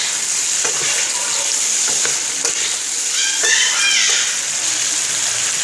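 Vegetable and chicken biryani being stirred and mixed in a frying pan, giving a steady close sizzle and frying hiss with scattered spoon scrapes and clinks, no talking.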